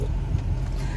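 Car engine drone and road rumble while driving with a caravan in tow, a steady low continuous noise with no other distinct sounds.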